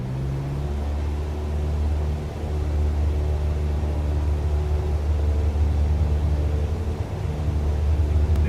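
A Cessna 172 engine at full throttle in a flight simulator game, a loud, steady, close droning roar with a constant low hum that holds throughout, with no talking.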